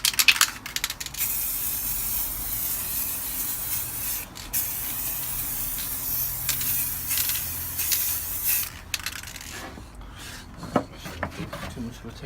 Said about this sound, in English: spray paint it with your gold paint